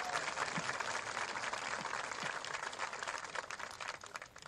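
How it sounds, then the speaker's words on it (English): An audience at a graduation ceremony gives the school band a round of applause, a fairly faint, continuous patter of many hands that thins slightly toward the end. "So let's give them one more round of applause."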